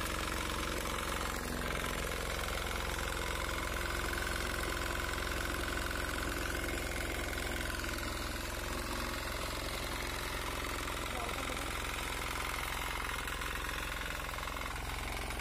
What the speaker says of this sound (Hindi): ट्रैक्टर स्टार्ट हो गया है, अब जा रहे हैं दूसरे खेत की ओर।